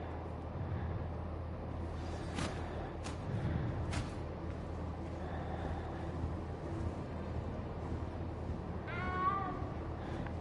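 A cat meows inside the Hogwarts Legacy video game, a few short calls over steady game ambience and music, fairly faint and mid-distance.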